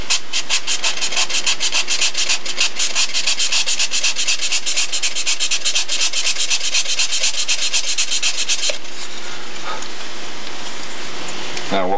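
Wood is rubbed back and forth on a sandpaper jig used for cutting hinges, making a fast, steady, close scraping rhythm for about nine seconds before it stops, leaving quieter handling noise.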